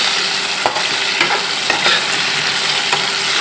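Potatoes fry in a hot pan with a loud, continuous sizzle, punctuated by a few sharp scrapes and taps as they are stirred close by.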